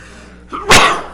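A single person sneezes during a board meeting: a short inhaled catch, then one loud, close, explosive burst that trails off, with no talk over it.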